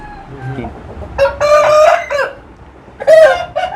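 An aseel rooster crows twice, loud and close, each call a long strained cock-a-doodle-doo, with softer clucking and faint farmyard noise before and between them.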